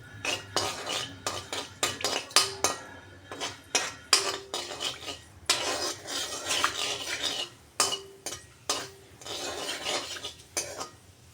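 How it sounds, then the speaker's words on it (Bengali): Fenugreek seeds are tempered in a generous amount of hot oil for an eggplant dish, with a spatula stirring and scraping the pan in quick, rhythmic bursts and only a faint sizzle beneath. "মেথিটাকে একটু ভাজা ভাজা করে নিচ্ছি।"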